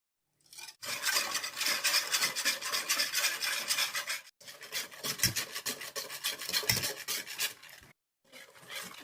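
Crêpe batter of sugar and salt is mixed by hand in a bowl, making close, rhythmic scraping and rubbing strokes in bursts separated by brief pauses.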